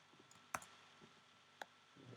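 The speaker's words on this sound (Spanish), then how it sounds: "El teclado." A computer keyboard during a hydropower lecture: two sharp, quiet key clicks about a second apart over faint room noise, with a few softer taps in between.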